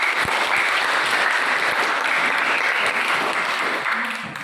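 An audience claps in steady, dense applause that stays loud and even, then tapers off slightly near the end, with no talk.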